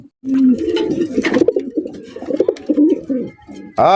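Pigeons coo at a pigeon farm, their low, throaty calls repeating close by in a steady, overlapping run with a brief gap at the start.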